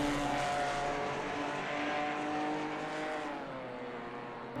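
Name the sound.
Ginetta GT4 race car at Watkins Glen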